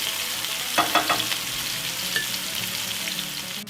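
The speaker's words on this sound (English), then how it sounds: "I'm going to let this fry for a little bit" Oil sizzles steadily in a frying pan while eggs cook, a close, even crackle with a few brief louder scrapes near the start.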